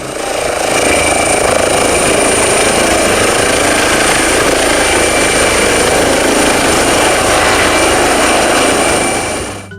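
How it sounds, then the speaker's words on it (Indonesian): A helicopter flies close by in a steady, loud, unbroken whir and roar that fills the whole stretch without fading. "Lihat teman-teman, ada helikopter."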